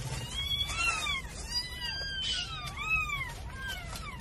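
Newborn kittens and their mother cat outdoors in a yard, a chorus of high, thin overlapping meows repeating in quick succession over a steady background hiss.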